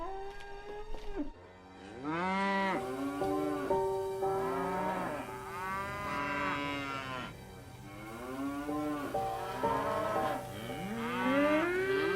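Cows moo on a farm in a series of long, loud, close calls, one after another and sometimes overlapping, with a brief rustle at the start and no talk.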